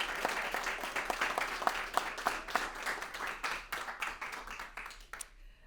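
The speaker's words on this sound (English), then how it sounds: "Round of applause, please" An audience claps steadily for several seconds, a dense, even patter of many hands that stops abruptly at the end.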